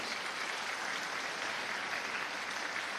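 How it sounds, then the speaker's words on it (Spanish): A church congregation at the Virgen del Pilar parish in Capiatá applauds in a continuous, even wash of many hands clapping, moderately loud and steady from start to finish, with no voices over it. "Fuerte aplauso para el Señor entonces."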